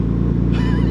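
A Nissan Skyline R34 fitted with a titanium exhaust is driven hard, giving a loud, close, steady low engine drone that builds into a higher rising note partway through.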